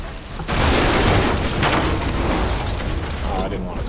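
Shot pipes burst into a fiery explosion in the video game Far Cry 3, a loud sudden boom followed by a sustained roaring, crackling rumble of flames.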